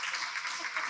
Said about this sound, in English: Can we give a round of applause to this amazing panel?